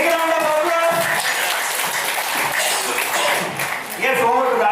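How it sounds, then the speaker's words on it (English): Workshop audience applauding on the second day of an innovation and entrepreneurship event, a dense wash of clapping that runs steadily for several seconds, with voices and cheering mixed in near the end. "Can I have a big round of applause?"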